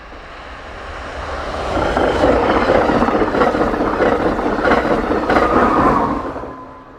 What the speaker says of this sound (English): Train 666 speeds east by the camera at 90 miles per hour